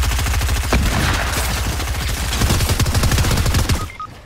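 A drum gun fires in Fortnite as a long, rapid, steady burst of close, loud shots, then cuts off near the end, with no talking.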